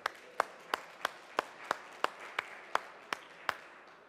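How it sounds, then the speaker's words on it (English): A small audience at the SteemFest3 main stage in Krakow gives sparse, spaced claps of about a dozen distinct hand slaps at a steady rhythm, fairly faint against a quiet room. "A round of applause for Joe."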